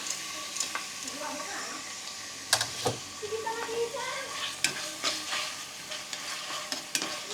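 Onion sautés in a hot pan with garlic and chili, a soft continuous sizzle broken by sharp stirring clacks and scrapes of a utensil, close by.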